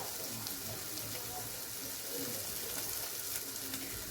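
A soft, steady sizzle of spice tempering frying in hot oil for dal, an even crackling hiss with no voices.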